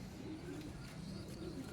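Pigeons cooing in a loft, soft low repeated coos close by and quiet, over a faint background hiss.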